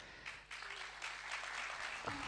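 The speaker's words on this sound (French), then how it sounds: "on peut vous applaudir avec chaleur" Audience applause at a panel discussion on disinformation, a steady wash of clapping throughout at moderate level, with a brief voice near the end.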